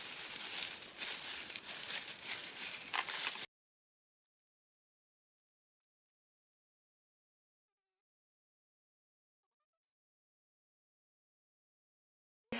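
Paper being crumpled by hand for a paper flower, a dense close crinkling and rustling for about three seconds that then stops abruptly into silence.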